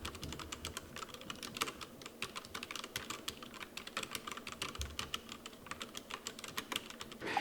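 Steady, fast typing on a Gigabyte K83 mechanical keyboard fitted with O-ring dampeners, soft, muffled keystrokes, a continuous run of dull clicks close to the mic with no talking.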